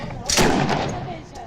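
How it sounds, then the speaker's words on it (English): A heavy boom of gunfire and artillery erupts in a combat zone where ISIS guns are a few hundred metres away, loud and close, with a long rumbling decay. "The heavy guns of ISIS are just a few hundred metres away."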